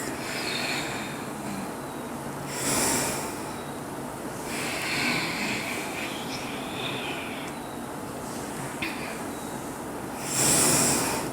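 Slow, steady yoga breathing alternates long airy inhales and exhales, with a few louder, drawn-out breaths rising above a constant low hiss of room noise.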